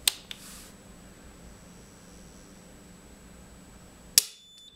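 A modular circuit breaker, either an IEK VA47-29 or a Schneider iK60N, trips off during an overcurrent test with a single sharp mechanical snap near the end, following a quieter click at the start and a steady low hum between them.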